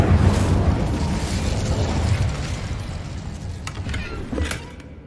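Incendio fire spell cast in the video game Hogwarts Legacy, a loud whooshing burst of flame that roars for a few seconds then fades, with a few crackling clicks near the end.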